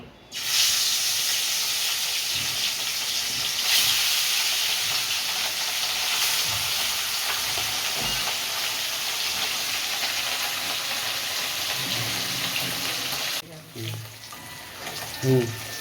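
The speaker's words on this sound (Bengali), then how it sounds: "তেল গরম হয়ে গেছে, আমি মাছগুলো ভেজে নেব।" Pieces of katla fish fry in hot oil with a loud, continuous sizzle and hiss that holds steady, then drops near the end as occasional stirring clatters come through.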